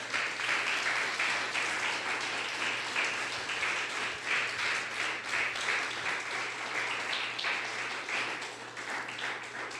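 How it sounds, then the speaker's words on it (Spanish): A church congregation applauds the Lord during a sermon, steady dense clapping from many hands filling the room for the whole stretch, with no speech over it. "¿Alguien puede darle un aplauso al Señor todavía?"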